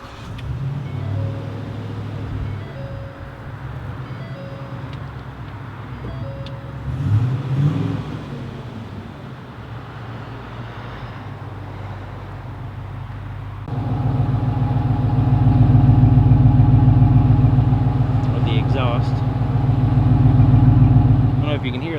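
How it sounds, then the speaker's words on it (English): A 2016 Ford F-250 XL Crew Cab pickup engine runs quietly at first under a background hum, then a deeper, louder steady idle rumble takes over and continues evenly for several seconds. "Let's go ahead and start it up so we can hear what the engine sounds like."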